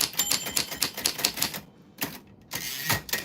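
Rapid clacking keystrokes on a manual typewriter, a dense run of close, crisp taps that pauses briefly and then resumes, loud and alone with no talk.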